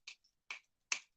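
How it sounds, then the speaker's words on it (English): Three crisp, close finger snaps, evenly spaced about half a second apart in an otherwise quiet space. "I love me a good finger snap."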